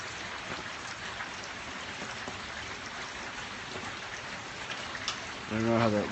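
Steady rain pours in the San Fernando Valley during a thunderstorm, a constant broadband hiss of drops on surfaces, with a brief louder burst near the end.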